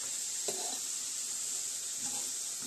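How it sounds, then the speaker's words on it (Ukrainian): Vegetables and onions fry in a pan, giving a steady, soft sizzle with a couple of faint clinks from stirring and no talking. "І нехай жариться"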